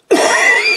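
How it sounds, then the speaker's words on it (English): A single harsh cough or throat-clearing burst, close and fairly loud, lasting under a second with no talking. "Sorry about the coughing"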